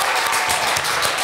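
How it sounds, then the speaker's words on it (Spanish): A final burst of loud, dense applause for a guest named Brenda fills a podcast studio. It is close, steady and continuous for the whole short stretch. "un último aplauso para Brenda,"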